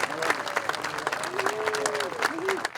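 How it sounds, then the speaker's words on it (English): Audience applause at an outdoor ribbon cutting ceremony, a moderate crowd clapping steadily for a few seconds while voices call and talk over it. "Can we give her a round of applause?"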